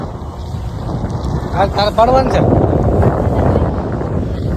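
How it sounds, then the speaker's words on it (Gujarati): Strong wind buffets a microphone in a forest, a steady low roar running throughout while people talk over it. "એનો અવાજ બહુ આવે પવનનો"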